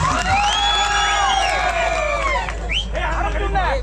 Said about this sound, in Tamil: ஒரு கைதட்டு கொடுக்கலாம் என் தம்பிக்கு.